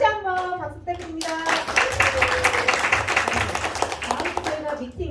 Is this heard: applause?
yes